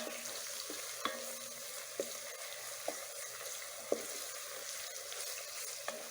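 Jollof stew base fries with a steady soft sizzle in a pot. A spoon scrapes and knocks against the pot at roughly one-second intervals, faint and close, with no voices.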